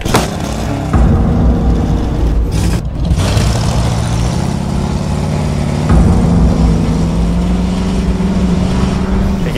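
A car engine hums and rises in pitch as the vehicle pulls away down a road, a steady mid-range drone with a brief dip near the start, loud and continuous.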